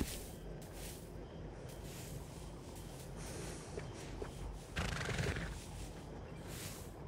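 An Arabian horse in Red Dead Redemption 2 neighs and snorts amid a busy background of steady noise, with a louder rushing burst midway through.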